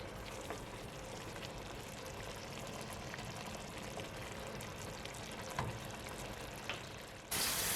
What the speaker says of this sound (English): now we are adding water to our oxtail